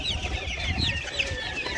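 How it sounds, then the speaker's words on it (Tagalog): Breeder chickens from a Rhode Island Red and Black Australorp cross clucking nearby in a steady, overlapping chatter, several birds calling at once. "At itong mga manok natin."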